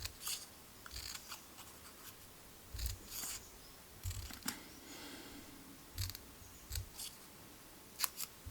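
Scissors snip through paper in short, irregular bursts, close by, with quiet pauses between the cuts.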